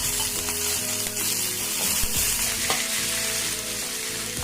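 Boiled white peas and mustard seeds fry in hot oil with curry leaves and dried chilli, a loud, steady close-up sizzle with crackling pops throughout.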